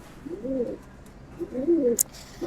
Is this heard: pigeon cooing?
yes